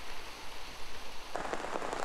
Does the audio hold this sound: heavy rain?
yes